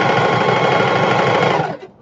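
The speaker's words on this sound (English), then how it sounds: "I'm sewing it down" Close, loud sewing machine stitching a shoulder bag panel, a steady rapid whirring run that stops abruptly near the end, with no voices.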